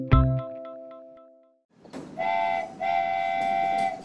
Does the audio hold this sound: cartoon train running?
yes